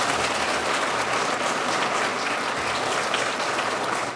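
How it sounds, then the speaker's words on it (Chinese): Award honorees for model workers and migrant workers, gathered at a presidential reception, give a loud, even round of applause that holds steady throughout, with a dense, close crowd clapping. "大家给自己一个掌声好不好？"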